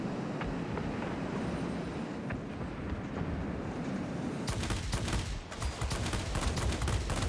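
Aircraft guns firing in the combat flight game World of Warplanes, a dense continuous rattle of rapid fire over a rumbling engine drone, growing harsher and louder partway through.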